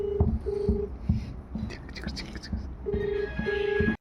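A phone call is placed on an iPhone. Short, evenly spaced beeping tones repeat at close range under quiet voices and breathy talk.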